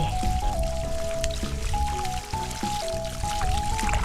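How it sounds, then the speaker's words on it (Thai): Coriander roots being rinsed in water to wash off sticky soil, a continuous close splashing and sloshing with a steady tonal hum running underneath throughout. "เราก็ต้องมาล้างก่อน แม่กำลังนั่งล้างเลยค่ะ"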